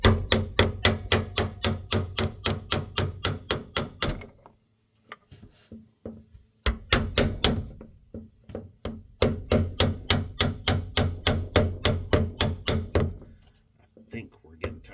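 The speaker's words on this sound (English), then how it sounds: "I'm going to use my hammer" Rapid, loud metallic hammer blows striking the fuel pump lock ring on a Dodge Ram, dense regular bursts broken by a short pause with a few lighter taps, close by.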